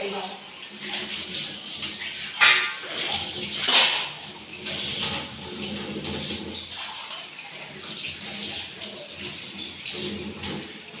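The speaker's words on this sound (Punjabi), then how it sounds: "ਨਾਲ ਧੋਈ ਜਾਈ ਤੇ ਮੇਰੇ ਭਾਂਡੇ ਹੋ ਜਾਂਦੇ" Water runs from a tap while dishes are washed in a home kitchen, a steady splashing rush that swells a couple of times with light clinks of utensils, and someone talks over it close by.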